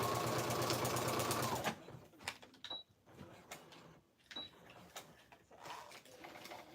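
Sewing machine running steadily as it stitches a button shaker card closed, a loud continuous whirring for about two seconds, then stopping, followed by quieter handling clicks and rustles.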